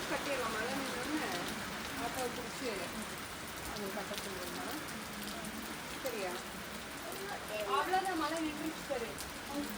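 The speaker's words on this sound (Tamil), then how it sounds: "காலையிலேருந்து அடிச்ச வெயிலுக்கு ஈவ்னிங் வந்து நல்ல மழை பெஞ்சது" Steady evening rain falls on a farm homestead, a soft, constant hiss of drops close by, with faint birdcalls and distant voices mixed underneath.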